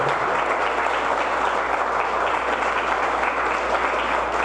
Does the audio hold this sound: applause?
yes